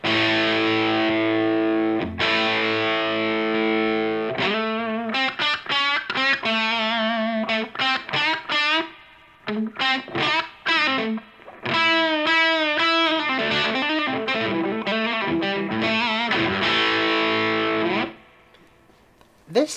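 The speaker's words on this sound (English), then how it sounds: "I really like this Tysco Distortion, actually." Electric guitar played through a Teisco distortion pedal, loud and continuous, with sustained chords giving way to choppy riffs and single-note runs before dying out near the end.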